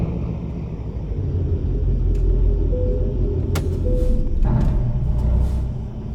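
A low engine rumble of a heavy diesel truck in American Truck Simulator rolls steadily into a gas station, swelling slightly then easing, with a few faint clicks and a short tone.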